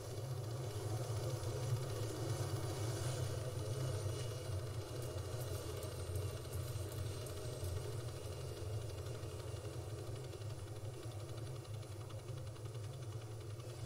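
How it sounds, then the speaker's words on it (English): A helicopter in the Arma 3 game settles in to land, giving a steady, loud low rotor and engine drone that holds without a break throughout, with no talking. "The chopper is gonna land here"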